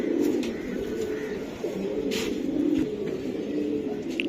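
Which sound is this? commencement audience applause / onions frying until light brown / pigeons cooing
pigeons cooing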